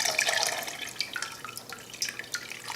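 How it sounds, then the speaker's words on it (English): Hot water at 150 degrees pours over grain for a braggot brew, a close, fairly quiet trickling and splashing with small dripping accents. "water that we're putting on top of it is 150 degrees as well"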